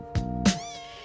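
Two short, close meows from kittens come one after the other, the second stretching into a longer wavering cry, with no talk over them.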